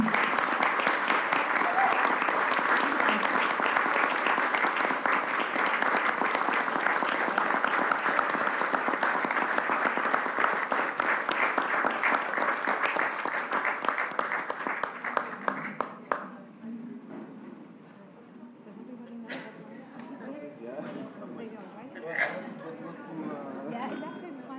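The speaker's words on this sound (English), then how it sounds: "ask you all to please stand up and applaud to Maura" A conference audience applauds steadily for about fifteen seconds with dense clapping and some chatter, then the clapping fades and scattered voices talk.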